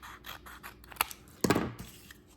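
Scissors trimming cardstock for a handmade greeting card, a few short snips and scraping cuts with one louder, longer cut in the middle, close and alone.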